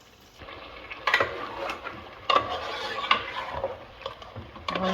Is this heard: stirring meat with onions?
yes